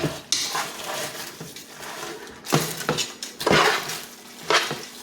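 Taco salad being tossed with chips and sauce in a bowl, producing irregular clattering scrapes and rustling crunches of utensils against the dish, close and moderately loud.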